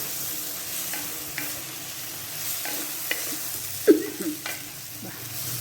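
Sabji with chana bhaji being stirred in a frying pan, a steady low sizzle with scattered scrapes and taps of the spoon, one sharper knock near the end, no talking.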